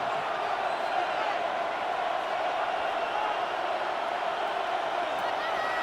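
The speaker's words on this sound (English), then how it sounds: "This crowd into it now as we get to third down." Stadium crowd noise from the Madden 26 American football video game, a steady, dense roar of a cheering crowd that holds at an even level throughout as the game reaches third down.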